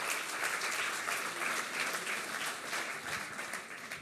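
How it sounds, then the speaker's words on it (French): An audience at the LREM parliamentary days in 2021 gives a dense, continuous round of applause, fairly close and unbroken for several seconds. "Et ça aussi, je pense qu'on peut les applaudir."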